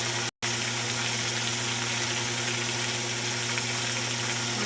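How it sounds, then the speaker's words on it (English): Onions fry with bacon in a pan over medium-high heat for traditional stuffed cabbage, giving a steady, even sizzle close by that continues almost unbroken apart from one brief dropout. "we're going to cook onions until they turn golden brown"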